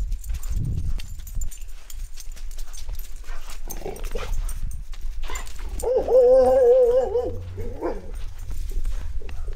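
Pet dogs whimpering with eager, high-pitched whines in a wavering run near the middle, over a busy indoor background with shuffling, a brief bark-like yelp and faint voices.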